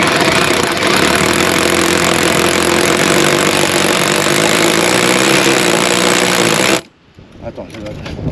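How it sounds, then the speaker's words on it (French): A hole saw on a power drill bores into a ceiling mock-up with a loud, continuous grinding whine close by, then stops abruptly near the end. "Vous tenez bien votre outil et vous positionnez votre scie cloche."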